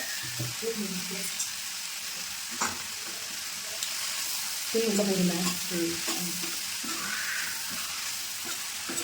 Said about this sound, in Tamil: நல்லா கிளறி விட்டு பொரியல் ரெடி ஆயிடுச்சு